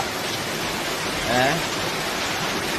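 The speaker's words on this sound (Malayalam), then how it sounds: "നോക്കുമ്പോ നല്ല മഴ" Steady, dense rain hiss fills the background while a voice speaks briefly partway through.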